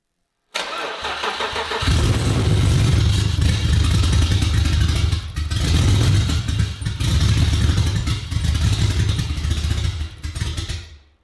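A low-budget drift BMW build's car engine catches on its first start and keeps running, a loud, close, rough mid-range rumble with clatter that surges and dips over about ten seconds, with no talking.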